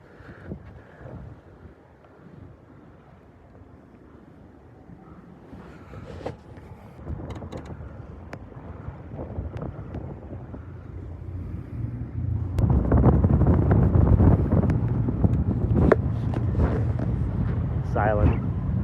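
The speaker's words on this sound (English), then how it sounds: "Sailing, baby. Sailing." A small sailboat with a newly fitted genoa moves under sail, with wind buffeting the microphone and water rushing past the hull. The noise starts moderate and swells louder partway through, while people talk now and then.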